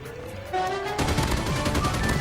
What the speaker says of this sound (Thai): นี่ นี่ และนี่ก็คือปืนกลที่โกงที่สุดในตอนนี้